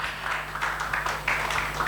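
Audience applause at a church fellowship (PGI) gathering, a steady wash of many hands clapping throughout, fairly distant and even with no single claps standing out.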